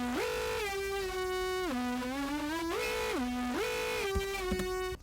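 A recorded vocal 'wee' that has been heavily distorted, EQ'd and compressed sings a gliding pitched line that slides up and down in steps, buzzy and harmonically rich, loud and sustained for about five seconds with no talking.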